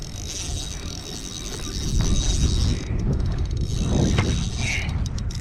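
A fishing reel's drag clicks steadily as a decent-sized fish pulls line from a kayak off Singapore, the ratcheting close and continuous under strong wind buffeting on the microphone.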